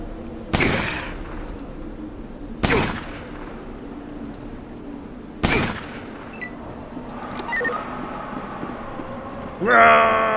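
Gunfire in the turn-based game Fallout Tactics: three loud, sharp gunshots a couple of seconds apart, each trailing off in a short echoing decay, followed by a brief metallic flourish at the end.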